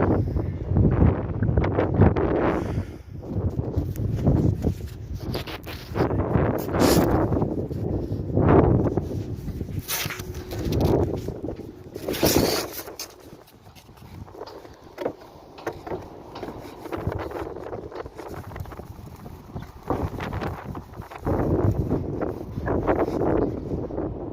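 Strong outdoor wind gusts buffet the microphone in Qatar, with loud rumbling surges that rise and fall throughout, occasional rustling and flapping bursts, and no one talking.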